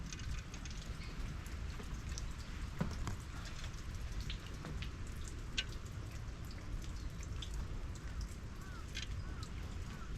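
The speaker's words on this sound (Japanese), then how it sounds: "今日雨で" Light rain falls steadily on a Shine Muscat grape farm in Japan, a soft continuous patter of drops with occasional sharper ticks, close by and fairly quiet, with no voices.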